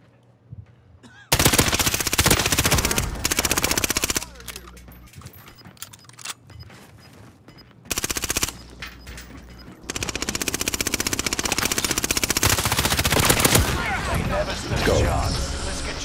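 Video game gunfire comes in several loud bursts of rapid automatic fire separated by quieter stretches, with players talking over and between the shooting.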